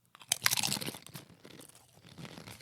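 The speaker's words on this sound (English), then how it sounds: "That's a nice crunch." Crisp crunch of biting into a Doritos Nacho Cheese tortilla chip, one sharp bite followed by a few close, loud chewing crunches that fade out, with no talking.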